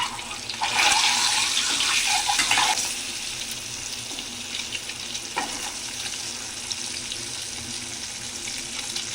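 Boiled eggs frying in hot oil with turmeric in a pan, a loud bright sizzle for the first few seconds that settles into a steady quieter crackle, no voices.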